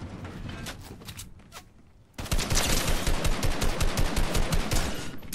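After a quiet start, a long, steady stream of automatic gunfire erupts in a Fortnite-style shooter video game, loud, close and evenly rhythmic until the end.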